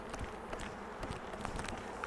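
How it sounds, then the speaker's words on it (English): Honeybees swarming over frames of an open hive, a dense, steady buzzing drone close by with individual bees flitting past the microphone. "you see what the bees are doing"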